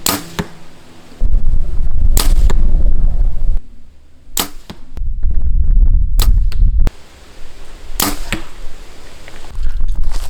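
Arrows loosed from a bow during target practice, heard as several sharp, loud snaps spaced a second or more apart, each followed by a brief rush of noise, with no talking.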